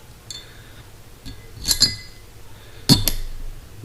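Metal washer and bolt clinking together during a Jeep Cherokee XJ 3-link install, a few light, close clinks in two clusters over quiet background noise.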